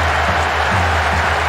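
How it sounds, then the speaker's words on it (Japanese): A stadium crowd of opposing supporters boos in the soccer video game World Soccer Winning Eleven 2012, a dense, loud, continuous roar with low droning tones throughout. "相手サポーターの大きなブーイングが湧いています。"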